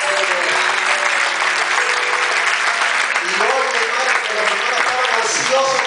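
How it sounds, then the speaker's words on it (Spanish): Church congregation applauding during a youth revival service, a loud, sustained burst of clapping with music and voices blending underneath, continuing steadily to the end. "Denle un aplauso al Dios del cielo"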